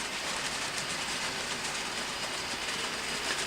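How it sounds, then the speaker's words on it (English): Model train running on layout track, a faint steady rumble with light clicking wheel noise throughout, no voices. "Train's in the block now."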